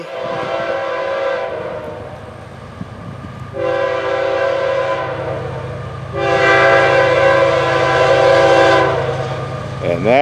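Florida East Coast Railway train 109 passes on a Tuesday morning, sounding three loud horn blasts, the last one longest, over a constant rumble of rolling cars and no speech.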